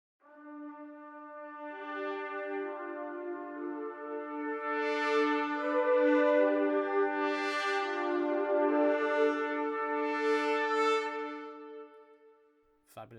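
Spitfire Albion V high brass bursts, a sustained bright brass chord swelling in repeated surging pulses that grow fuller and brighter before fading, with no talking.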